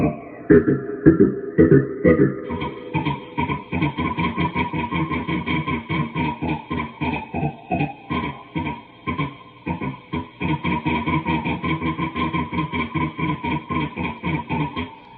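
A synthesizer voice effect from an EHX Talking Machine with Volca Keys pulses in rapid, choppy bursts like mechanical laughter, repeating steadily and loudly with no one talking.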